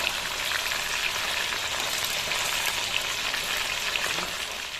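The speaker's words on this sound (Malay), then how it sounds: "Kalau kita buat ayam ni, ayam nasi lemak ni, kita kena hati-hatilah kalau masa goreng tu." Chicken for nasi lemak fries in hot oil, giving a steady, dense sizzle and crackle that stays loud and even throughout with no talking.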